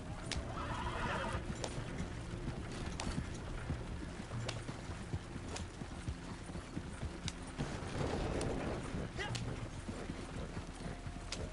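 In a video game, a trader wagon horse whinnies and its hooves clip-clop amid creaking wagon mechanisms, all faint and busy in the background.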